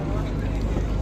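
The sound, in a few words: boat setting off on the river at Varanasi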